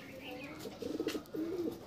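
Domestic pigeons coo in a loft in soft, low rolling phrases, two short bursts fairly faint, with a voice speaking quietly around them.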